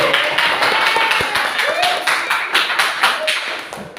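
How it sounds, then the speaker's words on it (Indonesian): A class of students claps in a classroom. The claps are close and distinct, with a loosely rhythmic patter of individual hands and some thumps, and the clapping fades slightly toward the end. "berikan tepuk tangan yang meriah"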